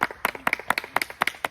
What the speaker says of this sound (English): I feel deserves another round of applause.